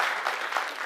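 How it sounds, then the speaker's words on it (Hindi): Members of a Bihar community association gathering in Surat break into loud, thick applause, a short dense burst of many hands. "जोरदार तालियों से उनको स्वागत किया जाए"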